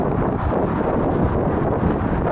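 Gusty wind buffets the microphone outdoors near a stadium, a loud, unbroken low rumble filling the whole moment with no speech.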